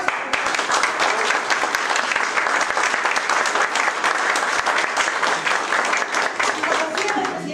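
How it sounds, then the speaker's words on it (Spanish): An audience at a Peruvian public-management training program applauds in a sustained, dense burst that carries on for several seconds at a steady level, with some crowd noise mixed into the clapping. "¡Fuerte los aplausos!"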